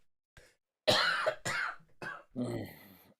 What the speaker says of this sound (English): I need to cough really badly